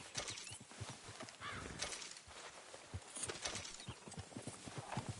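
Rhythmic clip-clop of horse hooves on hard ground in Red Dead Redemption 2, steady and close, with a brief whinny and faint bird calls in the background.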